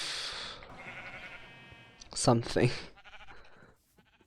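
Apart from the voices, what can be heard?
sheep bleating in Minecraft modpack video game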